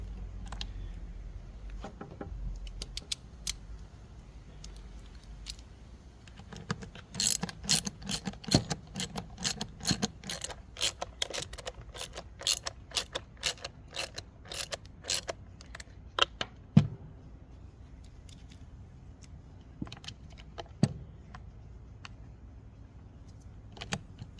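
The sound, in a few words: tightening screws on an Echo SRM-230 trimmer shield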